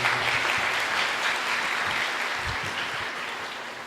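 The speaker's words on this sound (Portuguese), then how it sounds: "Dê uma salva de palmas para Jesus" Congregation at a Catholic charismatic prayer group meeting gives Jesus a steady round of hand-clapping before Mass, with a dense wash of claps that tapers slightly toward the end.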